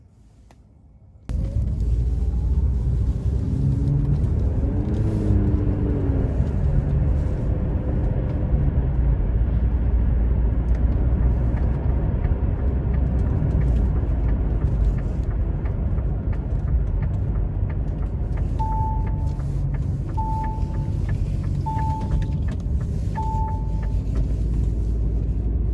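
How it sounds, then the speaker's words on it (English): Interior road noise from a 2018 Karma Revero on a test drive: a steady, loud broadband rumble of tires and wind that holds throughout, with a brief faint whine early on and a few soft tonal chimes near the end, with no talking. "take this Karma Revero out on the road for a quick test drive"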